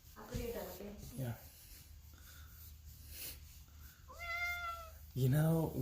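A house cat meows a couple of times, clear and close, between stretches of someone talking to it indoors.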